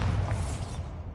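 A Bombarda spell blast in the Hogwarts Legacy video game, a dense low rumbling boom that stays loud through about a second before fading.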